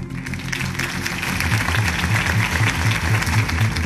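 Crowd applause follows a campaign speech by Harvey Dent in a Batman video game, a dense, steady wash of clapping over a low musical score pulsing in the background.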